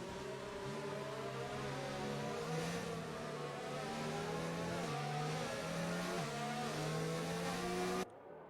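Formula 1 race car engines in a PC racing game at the Chinese Grand Prix, with several high-revving engines droning continuously, pitch rising and dropping through gear changes, loud and close until an abrupt cut.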